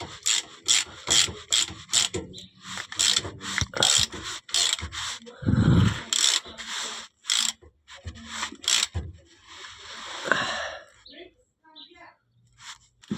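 A hand ratchet tightens a differential drain plug in short, irregular bursts of clicking and scraping, close by, with a loud thump partway through.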